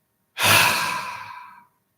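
A single deep, audible breath during a calm meditation exercise, close and clear, swelling quickly and then fading slowly over about a second in near silence.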